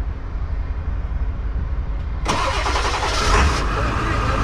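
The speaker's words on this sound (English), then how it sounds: "Start up that white truck." A white truck with a 7.3 engine cranks and fires up about halfway through, jumping from a quiet background hum to a loud, rough, steady idle close by.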